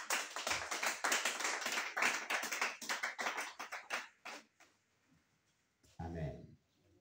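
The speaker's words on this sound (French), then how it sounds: "On acclame Jésus pour la vie" Church congregation applauding during a worship service, dense sustained clapping for about four seconds that fades out, followed by a brief spoken voice.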